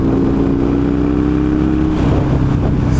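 Husqvarna 900 Nuda motorcycle accelerating, a loud, close, continuous engine roar with rising pitch over a few seconds.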